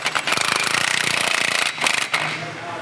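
A half-inch impact gun running in the primary clutch bolts on a Polaris RZR Pro XP, loud rapid hammering rattle held steady for a couple of seconds, then a brief second burst.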